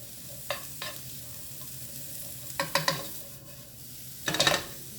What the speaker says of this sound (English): But while this is sauteing